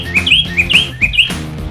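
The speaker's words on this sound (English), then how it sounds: "I was talking to these birds, right?" Birds chirping close and loud, three quick bursts of high two-note tweets in a regular rhythm over faint low background sound.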